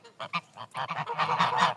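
Domestic grey geese honking, a gander with his geese, giving a run of nasal calls, a few spaced at first, then a rapid close chorus of overlapping honks, with no talk.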